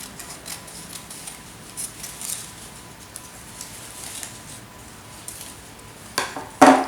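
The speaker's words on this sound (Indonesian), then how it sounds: "Kemudian digunting." Scissors snip through folded colored paper in a quiet room, with faint soft rustling followed by two sharp, close cuts near the end.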